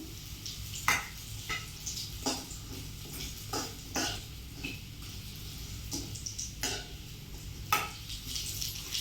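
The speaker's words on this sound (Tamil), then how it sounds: "கேஸை வந்துட்டு சிம்லேயே வச்சுட்டு ஃப்ரை பண்ணுங்கள்" Lumps of asafoetida frying in a pan over a low gas flame, a faint steady sizzle punctuated by light ticking scrapes and taps of a spoon, close and quiet with no talking.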